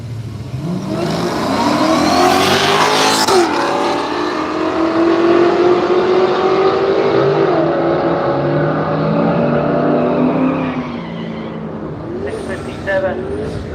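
Two Holden HJ cars launch side by side in a drag race at Willowbank Raceway, engines roaring loudly as they rev and shift through gears, pulling away into the distance, with a commentator talking over them.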